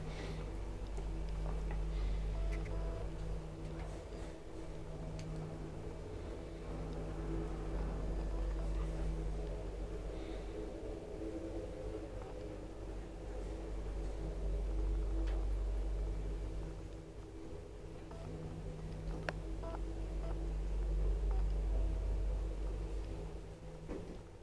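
An old Kone traction elevator runs in a residential building at Hillervontie 12E in Sampola, Pori, producing a steady low mechanical hum and rumble that swells slightly and continues throughout without speech.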